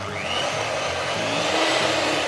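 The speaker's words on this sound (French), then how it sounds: "Et là maintenant, on va fouetter le tout" An electric mixer whips egg whites and sugar for a revisited apple tart, a constant close whirring drone that holds steady throughout without pauses or voices.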